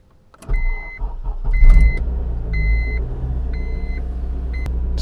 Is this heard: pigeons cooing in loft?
no